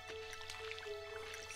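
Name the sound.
watering crops with a watering can in the video game Stardew Valley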